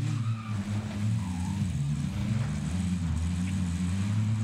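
Vehicle engine in Call of Duty Warzone droning steadily at close range, a continuous low rumble with slight pitch shifts, with no talking.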